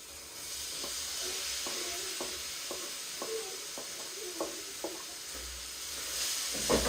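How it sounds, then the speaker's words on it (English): Onions, tomatoes, ginger and garlic sizzle in a hot pan while a utensil stirs them, a steady hiss punctuated by about a dozen light, regular scraping taps, close and quiet with no talking. "Give that a good stir. Then just let them cook for a while."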